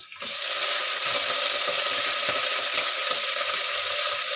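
Garlic frying in a pan for a home-cooked dish, a bright, steady sizzle that starts abruptly and holds at an even, close level, broadband and hissy with no break.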